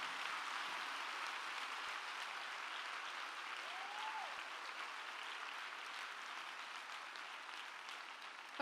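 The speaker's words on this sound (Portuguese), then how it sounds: "aplauda Jesus bem forte" A church congregation applauds together, a soft, distant, continuous patter of many hands clapping that holds evenly throughout.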